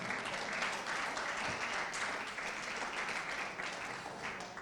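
Audience clapping at a sanitation and development presentation event, a dense, continuous round of applause, fairly distant and moderately soft, without a break.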